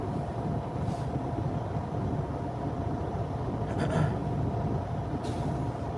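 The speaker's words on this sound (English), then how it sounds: "there's a bobtail driving by" A bobtail semi truck rolls past during reefer peak season, a steady loud low engine rumble with brief hissing bursts over it, heard close and continuous.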